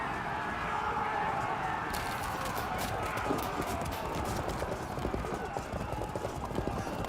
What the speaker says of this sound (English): their cavalry is chasing